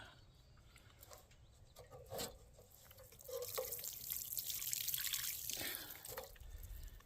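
Water splashes and drips while something is washed off outdoors, with scattered drops at first and then a fuller running trickle, close by and fairly quiet.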